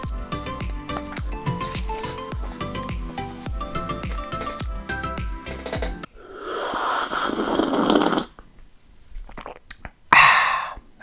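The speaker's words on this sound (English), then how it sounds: "That's why I decided to eat Chipotle." Close, wet chewing and squishing of a Chipotle meal in mukbang ASMR style, arriving in loud bursts with breathy pauses after a stretch of steady background music.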